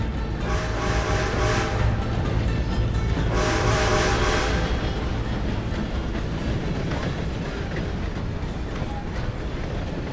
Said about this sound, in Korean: 방금 기차 소리가 좀 컸다